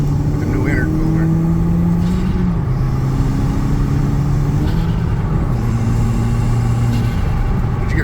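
An MK1 Audi TT Quattro with a new intercooler drives along, its engine humming steadily with pitch rising and falling through the gear shifts, heard from inside the car.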